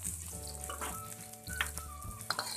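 Shallots, garlic and chili hit a heated wok and sizzle loudly and continuously, with stirring scrapes and crackles close by and no voices.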